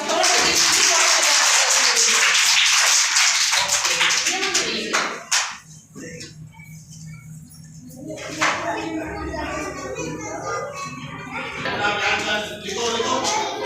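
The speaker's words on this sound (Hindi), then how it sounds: "अब ताली बजाओ" Children clapping together in a classroom, a dense burst of loud hand claps that breaks off, then resumes in scattered, lighter claps alongside some background chatter.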